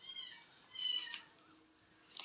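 Meows from a cat being fed biryani mixed with crushed medicine, a few short tonal cries, fairly faint and close, with no talking.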